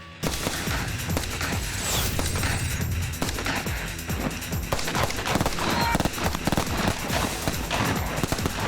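Dense, continuous gunfire from a film shoot, with rapid bursts and rounds overlapping in a loud, sustained barrage that fills the whole stretch without a break.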